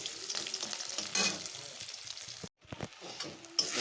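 Pointed gourd with onion, garlic, ginger, green chilli, turmeric and salt sautéing in a pan, a steady close sizzle with stirring scrapes, a brief gap near the end before the frying resumes.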